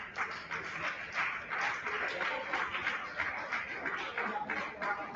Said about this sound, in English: please, on his way down, please, the applause should not stop